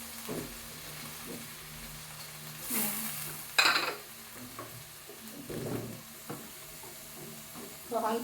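Chayote and a little ground beef fry together in a pan, with a steady sizzle broken by stirring scrapes and a sharp clatter partway through, close by.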